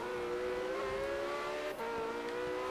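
A car of nearly 900 horsepower drives in Forza Horizon 3, its engine holding a steady, close, humming drone with a brief dip in pitch midway.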